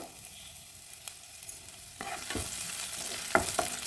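Sliced small onions frying in coconut oil in a hot pan, quiet at first, then a louder sizzle with a few spoon scrapes and clinks as they are stirred, close and without talk.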